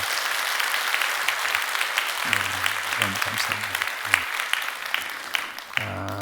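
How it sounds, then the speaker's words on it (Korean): A church congregation claps steadily, a broad wash of applause that carries on throughout while someone speaks briefly over it. "여러분 크게 박수 한번 해주시면 고맙겠습니다"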